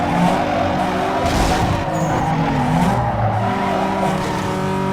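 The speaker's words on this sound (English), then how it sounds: "the shift down, the downshift it does, the shift down, the downshift" Car engine in Need for Speed Underground 2 revving and dropping as it downshifts into a corner, loud and continuous, with pitch steps and tire noise under the engine drone.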